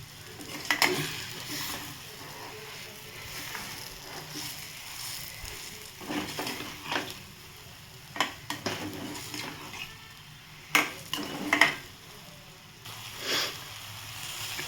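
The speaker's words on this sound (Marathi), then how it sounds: "मी आता हे बघा किती मस्त असं फ्राय करून घेतलं आहे" Soybean chunks are stir-fried in a kadhai, giving a low continuous sizzle with repeated spatula scrapes and sharp knocks against the pan at intervals, and no speech.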